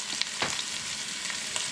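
Garlic, ginger and onions fry together in a pan for a redfish curry, a steady close hiss with a few brief louder crackles and stirring scrapes, no voices.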